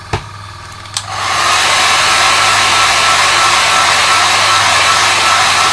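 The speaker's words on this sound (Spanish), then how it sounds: "Y le damos un poquito de secador y listo." A hair dryer blowing on freshly painted parts of a palm-size Bandai Y-Wing model kit starts after a couple of clicks and then runs as a loud, steady, close airy roar.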